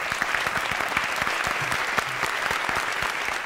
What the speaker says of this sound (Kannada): ಅವ್ರಿಗೂ ಒಂದು ಜೋರಾದ ಚಪ್ಪಾಳೆ ಬರಲಿ